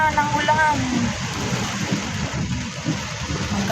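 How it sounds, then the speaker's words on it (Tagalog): Heavy rain from Typhoon Nando pours down steadily in a dense, close hiss, with people talking over the downpour. "Lumakas na naman ang ulan."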